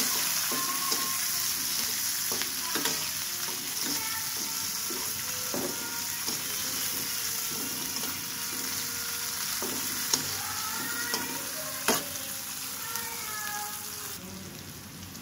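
Onion and garlic frying in a pan while being stirred, a steady close sizzle broken by repeated scraping strokes of a spoon, with no talk.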